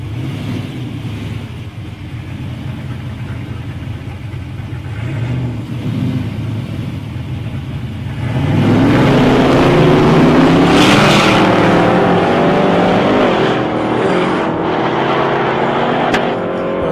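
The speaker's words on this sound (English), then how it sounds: "in lane 1 we've got Luke Pace, his white VN Commodore, versus Travis Kirby in lane 2 with his XA Falcon" Drag race at the Ballarat Drag Racing Club between a white VN Commodore and an XA Falcon: engines idle, then roar loudly as the cars launch and accelerate hard down the strip, staying loud to the end.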